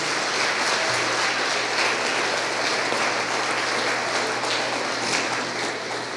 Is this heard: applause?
yes